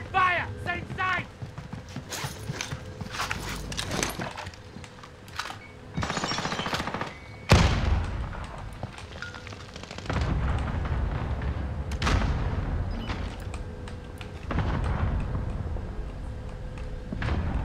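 Gunfire in the Call of Duty Warzone video game: repeated loud bursts and sharp shots, some rapid automatic volleys, spread across the clip with players talking over the action.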